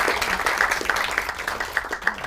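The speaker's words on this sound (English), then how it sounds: "let's have a big round of applause for" Audience applause at a military weekend event at the Eisenhower National Historic Site. Close, brisk clapping from a small crowd fills the short stretch evenly.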